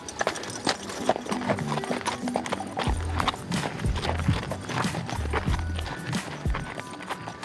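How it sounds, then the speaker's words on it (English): Horses clip-clop along a trail in a steady run of close hoof strikes, with a faint voice now and then in the background. "It's always exciting when the horses come."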